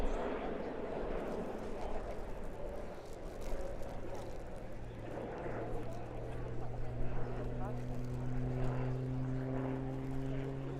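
A Slovenian Pilatus PC-9M propeller aircraft flies aerobatics at the RIAT 2024 air show, its engine drone steady and then rising in pitch, while a commentator talks over it throughout.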